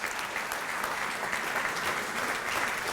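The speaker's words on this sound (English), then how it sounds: "could we give him a round of applause" Audience applause at an opening ceremony, a dense, continuous wash of many hands clapping at steady loudness throughout.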